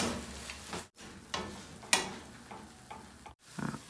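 Carrot halwa being stirred in a pan, with soft irregular scraping and shuffling strokes, a few louder scrapes, brief pauses between them, close and moderately quiet, no talking.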